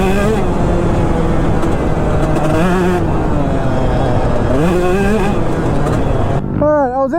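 A two-stroke dirt bike engine revs continuously over jumps, a loud, close buzzing drone that rises and falls in pitch with throttle blips, and a sharper rev sweep near the end.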